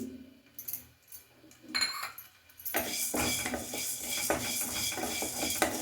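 Two spoons of coriander seeds dry-roasting in a pan with no oil. A quiet stretch gives way to a steady, dense rattling and scraping of seeds against metal that continues to the end.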